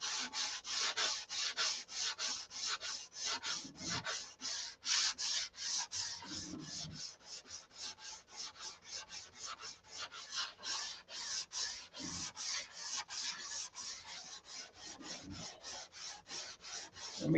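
Steady back-and-forth sanding on the body of a Viper to smooth out a detail, with rapid rhythmic rasping strokes that repeat evenly and close up, with no talking over them.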